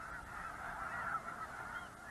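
Migrating geese honk in a dense, continuous chorus of overlapping calls, moderately distant and fairly faint, with no voices over them.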